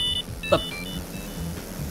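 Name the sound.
cell phone beep in a racing video game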